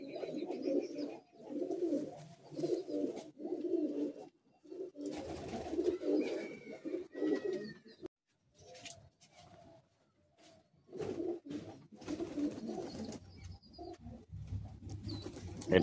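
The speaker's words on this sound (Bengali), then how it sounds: "এগুলো সব ব্রিডার কবুতর আছে।" Madrasi high-flying breeder pigeons coo in a loft in Kolkata: soft, throaty coos repeat in rhythmic bursts, with a brief quiet pause midway before the cooing resumes at close range.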